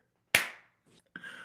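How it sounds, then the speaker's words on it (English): A single sharp hand clap rings out close and loud, followed by a faint short sound and then a brief burst of speech. "I'm gonna clap"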